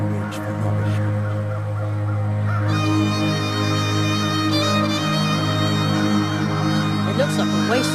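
Crows cawing on Grey Mountain, a dump-like crow home in The Night of the Rabbit, with a few harsh caws rising over sustained game music that carries on throughout.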